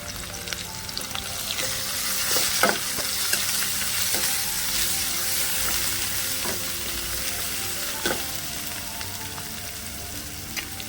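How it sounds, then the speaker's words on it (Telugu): Ginger, garlic and green chili paste frying in oil for sorakaya rasam, a loud dense sizzle running throughout with occasional sharp crackles and spoon scrapes, no voices. "ఇప్పుడు మనం వేసుకున్నటువంటి పేస్ట్ ఉంది కదండి, అది బాగా నూనెలో వేగాలి"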